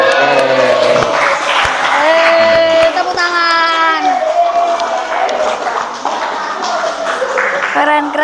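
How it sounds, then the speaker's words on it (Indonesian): Classroom applause for students, scattered clapping from a group of pupils mixed with children's voices and chatter, moderately close throughout. "Tepuk tangan"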